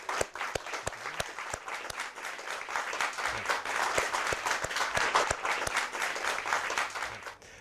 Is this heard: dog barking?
no